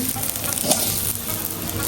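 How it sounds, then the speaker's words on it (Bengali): Polao rice frying with spices in a home kitchen, a steady close sizzle running throughout the short stretch with one brief brighter crackle near the middle, no voices. "পোলার চাউলটা ভাজা হচ্ছে মশলা দিয়ে"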